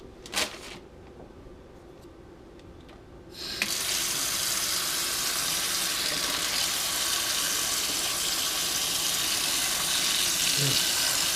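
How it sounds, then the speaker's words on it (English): Tap water gushes into a sink over a bagged raw red snapper fillet, starting abruptly after a few quiet seconds with a faint clatter, then a loud, steady hissing stream that continues to the end. "Take it over to the sink and run some water over it."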